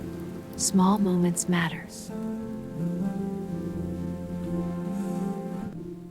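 Rain falls on a mobile home, a soft, continuous patter and hiss heard under a person speaking and a sustained tonal hum.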